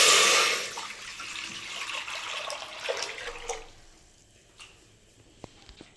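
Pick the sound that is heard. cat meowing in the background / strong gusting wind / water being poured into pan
water being poured into pan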